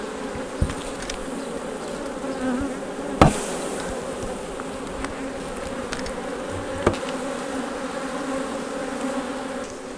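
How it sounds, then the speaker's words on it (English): A dense, continuous buzz of many honeybees swarming close by a hive, with a few sharp knocks and taps cutting through the drone. "look at all these bees"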